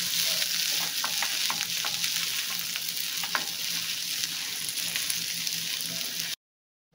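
Mashed boiled potatoes for bun dosa stuffing are stirred with a spoon, giving soft scraping strokes over a steady hiss that cuts off abruptly just before the end.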